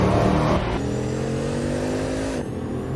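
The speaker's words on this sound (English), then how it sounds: "The Bugatti Veyron Supersport" A Bugatti Veyron Supersport, the 1,200-horsepower supercar built 2010–2011, revs its engine: a loud, close tonal roar that climbs in pitch, holds a sustained whine, then drops away at the end.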